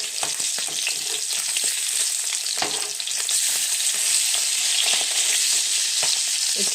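Turmeric-and-salt-coated catla fish pieces fry in hot white oil, a loud continuous crackling sizzle with sharp pops and spatters throughout, no voices.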